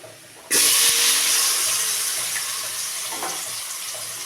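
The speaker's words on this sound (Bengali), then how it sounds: "এবার ওই তেলেতেই আমি আলুগুলো ভালো করে একটু লাল লাল করে ভেজে নেব।" A sudden loud hiss erupts as potatoes hit hot oil, settling into a steady, strong sizzle that slowly fades a little.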